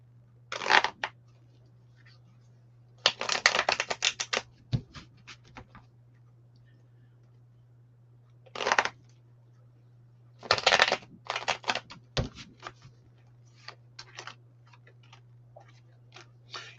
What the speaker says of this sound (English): All right, Martha, let me shuffle these up.